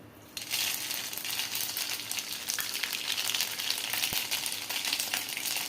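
A tempering of oil and spices for dhokla starts sizzling in a pan with a sudden loud hiss. It keeps up a steady dense crackle at close range, with no talk over it.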